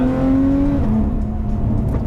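A Lotus Evora 400 sports car with an automatic gearbox drives and accelerates, its engine a loud, steady close-up drone that rises in pitch, dips briefly as the gear changes, then carries on.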